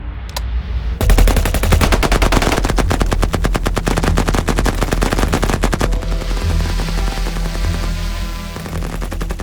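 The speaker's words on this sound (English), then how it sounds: "a deadly gunfight is about to occur" Gunfight in a 3D animated depiction of a militia battle: after a brief lead-in, continuous loud machine-gun fire rattles in rapid, dense bursts, with heavy low booms underneath and a slightly thinner, echoing tail near the end.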